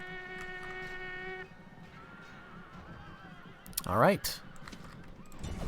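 Horses whinny and hooves clatter amid a medieval battle in the video game Variag Hordes, a sustained neigh early on and a loud rising whinny near the end, with someone speaking briefly over the battle noise.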